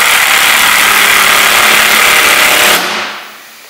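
A power driver runs lag screws down straight into a Maxim 3000 during assembly, a loud steady motor whine lasting nearly three seconds before cutting off and winding down, with no talk over it.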